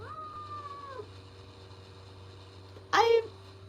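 A cat meows once, short and fairly close, after a stretch of quiet room hum with a faint tonal background sound.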